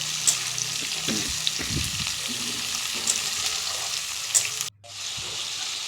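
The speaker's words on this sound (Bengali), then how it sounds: "ক্যাপসিকামগুলো দিয়েও খানিক্ষণ নাড়াচাড়া করবো" Capsicum pieces stir-fried in a pan for a pasta dish give a steady, close hiss of hot oil, broken by a few scraping stirs. A brief dip near the end is followed by a softer sizzle.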